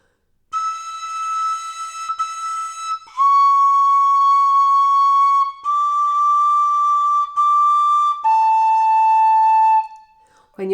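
A tin whistle plays the slow melody of the carol Silent Night, clear sustained notes that step from one pitch to the next, played alone and close.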